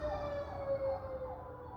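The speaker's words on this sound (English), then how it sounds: "Excuse the sirens." Emergency vehicle siren at a busy city corner, a faint, distant wail holding a steady pitch beneath low traffic rumble.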